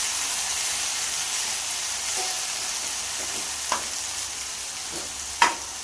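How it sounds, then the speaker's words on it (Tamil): Onion, tomato and green chilies sauté in a pan for wheat upma, giving a steady, close sizzle broken by two sharp utensil clicks near the end. "பச்சை மிளகாய், இதை 3த்தையும் போட்டு நல்லா வதக்கி எடுத்துக்கலாம்."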